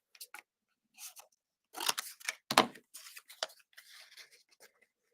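Scissors snip out a shape for a cubist craft piece, giving a close, quiet series of crisp cuts and papery rustles in short uneven bursts with pauses between, no voices.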